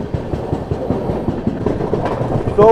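The Chennai Howrah Mail runs through Tadi at speed, with a close, loud clickety-clack of wheels over rail joints in a steady rhythm and no talk.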